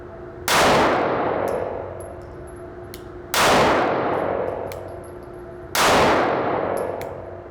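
Three loud, evenly spaced gunshots from a Sig Sauer P365 SAS 9mm pistol, each a sharp crack followed by a ringing decay, with no talking.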